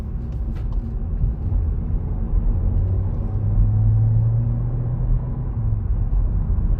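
Steady low rumble of a 2023 VW T-Cross R-Line's 1.5 TSI engine with DSG gearbox under acceleration, heard from inside the cabin as a continuous drone that swells slightly mid-pull, with no talk over it.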